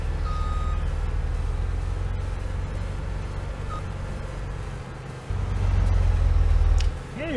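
Trucks in Farming Simulator 17 traffic rumble past steadily, a loud continuous engine drone with a thin repeated reversing beep, and the rumble swells more heavily toward the end.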